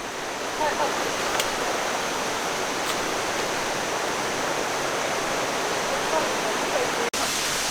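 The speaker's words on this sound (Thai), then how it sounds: "อันนี้น้ำตกชั้นแรกอะอ ชั้นแรกตรงนี้ก็จะเป็นน้ำตก" The first tier of Huai Kaeo Waterfall in Chiang Rai, Thailand roars in a steady, dense rush of white water, close and constant, with a brief click near the end.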